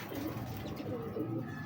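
Pigeons coo softly at close range in a loft of prized field-flying pigeons, a few low, rolling coos over faint background noise, with no voices.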